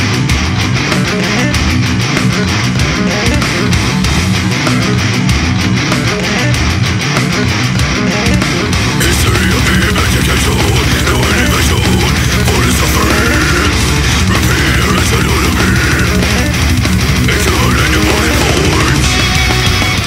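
Dense, loud death metal from Blood Red Throne's record Altered Genesis, with heavily saturated guitars and rapid drumming that play continuously with no voice over them.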